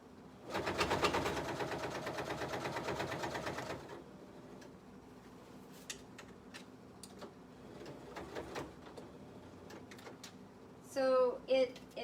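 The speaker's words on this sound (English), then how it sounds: "it sounds really bad because I'm sewing through the inside yoke, the outside yoke, and the gathered fabric" A sewing machine stitches through an inside yoke, an outside yoke and gathered petticoat fabric, running loud and steady for a few seconds, then stopping; quieter handling sounds follow.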